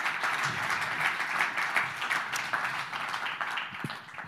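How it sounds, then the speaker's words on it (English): An event audience at a ten-year anniversary gathering applauds steadily as a speaker comes on stage, a full, even round of clapping that lasts throughout. "Please give him a big, there you are, big round of applause."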